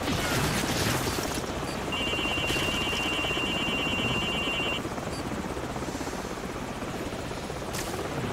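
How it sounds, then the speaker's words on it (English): Helicopter in the Call of Duty 4: Modern Warfare video game: a continuous dense rotor roar mixed with battle noise, including a brief electronic beeping tone partway through, with no talk. "Down with the chopper. Yeah, there we go. Chopper is down."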